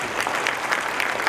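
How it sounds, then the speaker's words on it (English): An audience claps together in dense, steady applause at an event launching an India technology centre, the sound full and even throughout without any voices on top. "huge round of applause, please."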